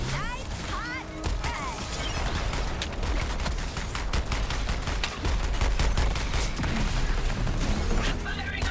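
Rapid, sustained gunfire from a video game fills the whole stretch with dense, overlapping bursts of shots, loud and continuous throughout.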